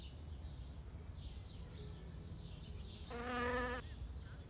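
Potter wasps buzzing close by, a high droning hum that comes and goes in short passes, with one louder, steadier buzz near the end over a low background rumble.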